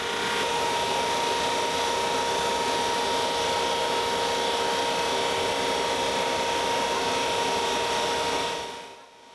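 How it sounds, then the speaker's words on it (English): A drum sander running freshly joined wooden boards for a modern desk, a loud, steady droning hum with a faint tone that continues unbroken, then winds down at the end. "I employed a little bit of help to run each one of these freshly joined boards through my drum sander."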